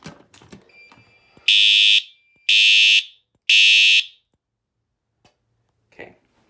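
A fire alarm sounds during a smoke detector test in an old alarm system, three loud, close, shrill bursts of about half a second each, evenly spaced, with faint handling clicks before and after.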